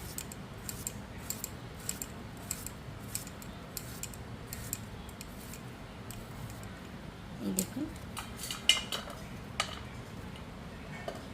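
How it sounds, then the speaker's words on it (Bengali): A banana stem being cut into small thin strips with a knife, a steady run of crisp short chopping ticks about once every half second, with a brief rustle of handling partway through. "এইভাবে ছোট ছোট করে ঝুড়ি ঝুড়ি করে কেটে নিতে হবে"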